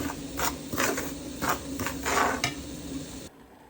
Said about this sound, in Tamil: நீங்கள் எடுத்து வச்சு இந்த ஏலக்காயையும் உப்பையும் அதுக்குள்ளே போடுங்கோ. போட்டு நல்லா கிளறி விடுங்கோ.